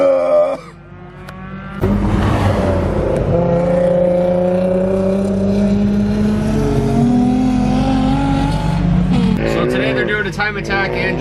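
A car drifting on a winter practice track, its engine revving loud and sustained with rising and falling pitch over about nine seconds, after a brief quieter start, with a voice speaking over it.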